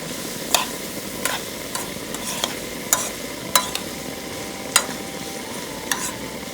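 Ground spices with turmeric fry in a pan for a prawn dish, a constant dense sizzle broken by regular sharp scraping strokes of a spatula, close and fairly loud.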